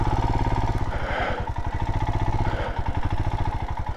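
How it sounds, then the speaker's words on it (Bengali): A motorcycle rides on an icy road in freezing winter conditions, its engine chugging in a rapid, steady, close rhythm while the bike skids, with a rough, loud tone throughout. "পুরো বাইক স্কিড করছে পেছন দিকে"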